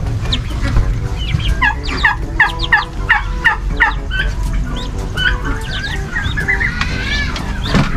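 A flock of turkeys gobbling loudly and repeatedly, close by, with overlapping calls and some clucking mixed in.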